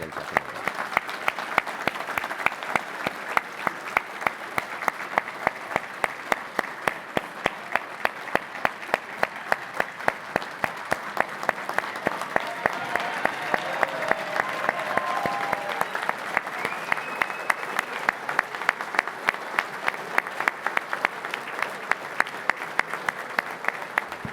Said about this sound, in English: So please, a round of applause for all the spouses.